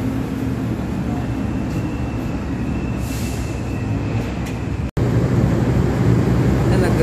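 A Carrier 7.5-ton air conditioning unit runs with a steady, dense mechanical drone and rumble, a brief dropout partway through, then a slightly stronger, continuous hum as it keeps running.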